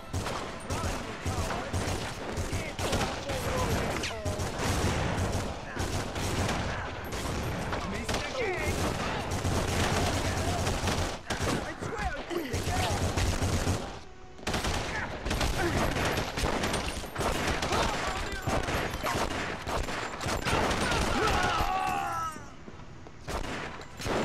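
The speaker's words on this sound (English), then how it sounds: "Shooting still." Rapid gunfire fills a dockside fight against the Yakuza in The Punisher (2004) video game, dense bursts of automatic and single shots with occasional breaking glass, loud and nearly continuous before fading at the end.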